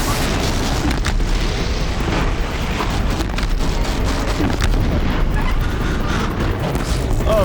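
Explosives going off during a Horizon Zero Dawn battle, a dense, continuous roar of booming blasts and crackling debris that stays loud throughout.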